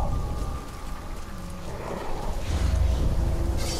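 Rain falling in Middle-earth: Shadow of Mordor, a steady close hiss of downpour with low rumbling that grows a little louder toward the end.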